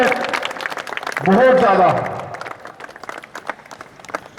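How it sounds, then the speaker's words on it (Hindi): A crowd claps loudly at an outdoor yoga event held at a sage's ashram for Basant Panchami, as a man pulls a vehicle with his teeth; a short, loud shout rises over the applause, and talk continues throughout. "जोरदार तालियों से स्वागत करती है"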